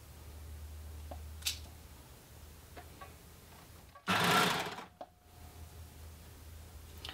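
An overlocker sewing a shoulder seam on jersey fabric with ribbon attached, heard as one short, loud, close whirring run of under a second, surrounded by quiet room noise and a few small clicks.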